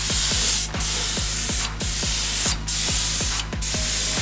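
A spray gun paints a truck in four separate bursts of loud hissing with short gaps between them. A steady, rapid mechanical ticking pulses underneath throughout, close up and with no speech.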